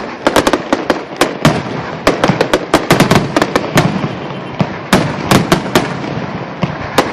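Dense fireworks after an A's vs Blue Jays baseball game: rapid sharp bangs and crackling bursts, loud and close, firing in quick irregular clusters with almost no pauses.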